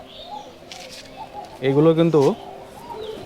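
Rajshahi local Giribaj pigeons coo nearby, low burbling calls under a voice, which rises into one strong, close warbling phrase in the middle.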